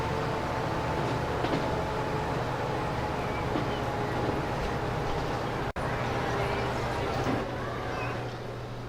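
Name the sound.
passenger train running in the video game Transport Fever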